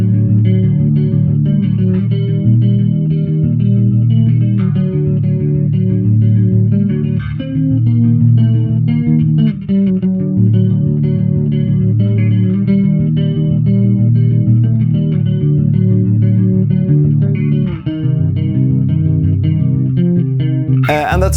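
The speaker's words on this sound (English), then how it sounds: "The Tonex bass also has a chorus," A bass guitar played through the chorus effect of an IK Multimedia Tonex Bass gives a thick, shimmering, warbling tone, with sustained notes and occasional plucked changes ringing steadily and loudly, alone without talk.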